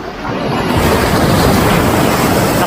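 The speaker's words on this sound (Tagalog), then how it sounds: "Lakas ng alon" Strong sea waves surging against rocks in the middle of a rocky shoreline at Infanta, Quezon, a dense, continuous roar of surf with wind buffeting the microphone, loud and close throughout.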